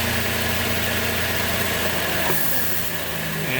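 A Dodge Dart's engine running at idle, a steady close mid-to-low hum with constant vibration and no break throughout; no speech.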